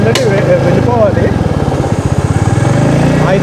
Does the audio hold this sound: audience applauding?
no